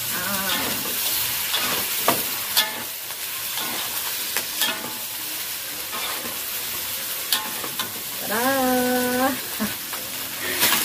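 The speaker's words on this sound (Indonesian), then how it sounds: "kita mau goreng juga buah nanas ya" Pineapple pieces frying in a pan with a steady, close sizzle and occasional stirring clatter, while a voice speaks briefly over the cooking noise.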